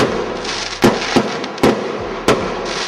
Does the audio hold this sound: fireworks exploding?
yes